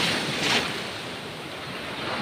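Ocean waves and surf wash in a steady, broad roar from fairly close by, mixed with some wind noise, with no voices over it.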